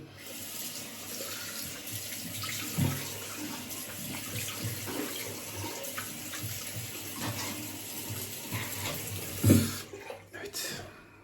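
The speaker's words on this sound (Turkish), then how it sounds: "Şimdi yüzümü yine yıkayacağım" Running tap water pours steadily while a man washes his face during a traditional shave, with occasional louder splashes as hands scoop water, close and continuous throughout.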